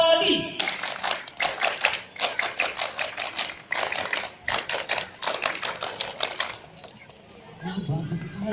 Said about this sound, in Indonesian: Kelas 5 tepuk pramuka 2 kali